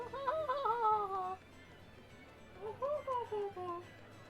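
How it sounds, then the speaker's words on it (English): Two drawn-out, wavering meows from a cat in Tales of Berseria, one after the other with a short pause between, moderately loud against a quiet background. "I hear Kitty"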